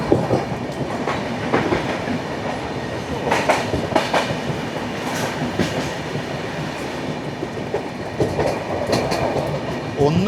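Kerala Sampark Kranti Express running at speed, a loud steady rumble with rhythmic clickety-clack of wheels over rail joints throughout, no talking.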